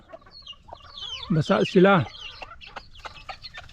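Wet hens squabble at close range with sharp, rising squawks and agitated clucks, loudest in a burst near the middle, while someone speaks briefly over them.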